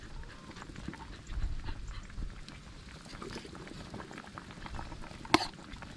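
Water at a steady boil in a cooking pot bubbles and gurgles continuously at close range, with a sharp clink partway through.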